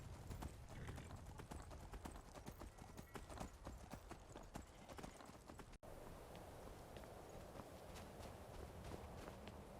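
A mare in the video game Skyrim clip-clops along at a steady walking pace, her hooves close and crisp at first, then turning softer and more muffled as the ground changes partway through.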